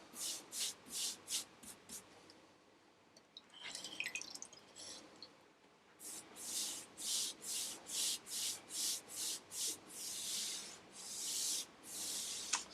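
A brush spreads Danish oil over acrylic-painted plywood in long, smooth strokes, giving soft close swishes in a regular rhythm that pause briefly and then resume, quiet with no voices.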